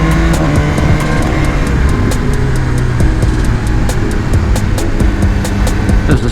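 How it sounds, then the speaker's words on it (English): A 2019 BMW S1000R motorcycle riding on the Angeles Crest mountain road: loud, close, continuous engine drone and wind roar from the rider's position, holding steady throughout. "I'm riding in Angeles Crest right now with a BMW S1000R"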